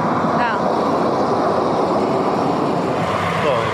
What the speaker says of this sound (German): jetzt fährt hier gerade die Straßenbahn vorbei, ja, und macht ein wenig Lärm.